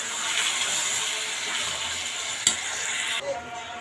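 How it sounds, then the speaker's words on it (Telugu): Marinated chicken sizzles steadily in a hot pan and is stirred, with a continuous bright frying hiss and a sharp utensil scrape partway through, the sizzle briefly dipping near the end. "నేను చికెన్ అంతా బాగా కలిపేసుకున్నాను"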